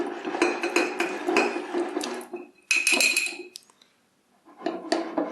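A spoon clinks and scrapes against a container while stirring milk with cheese culture for vegetarian cheese, in uneven bursts of metallic chinks separated by short pauses and a brief silence.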